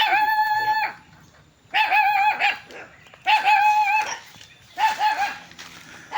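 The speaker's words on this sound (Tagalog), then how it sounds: "May mga manok dito si Kaangil." Chickens cluck and call in four loud bursts, each followed by a short quiet gap, close by on a mountain in San Mateo, with no talking.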